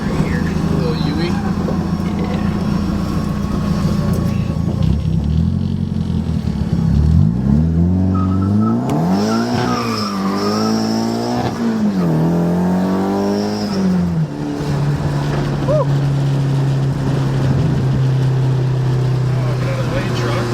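An SR20-swapped Mazda FB RX7 accelerates under turbo boost from inside the car, engine revs climbing and falling in pulls with a loud, close drone and turbo flutter, while a voice talks over parts of it.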